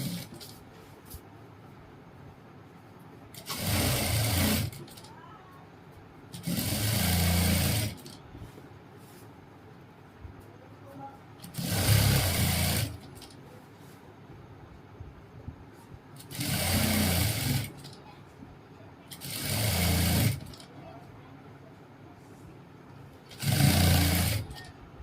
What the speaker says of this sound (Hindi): दूसरी साइड से हम इसको यहाँ मिला के फिर सिलाई मारेंगे